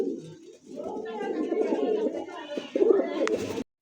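Pigeons at a pigeon market coo continuously in low throaty rolls, close and fairly loud, with people talking in the background.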